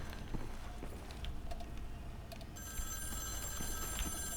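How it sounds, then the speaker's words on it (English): Telephone ringing in the video game The New Order, an electronic ring over a dense background hum, with a tonal ring appearing in the second half. "The phone is ringing."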